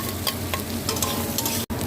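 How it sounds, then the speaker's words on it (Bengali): Crushed garlic and chopped raw onion fry in a pan while being stirred: a steady close sizzle with scraping strokes throughout, briefly cutting out near the end. "দিয়ে একটু নেড়ে নেবো। সঙ্গে রসুন থেঁতো করে রেখেছি,"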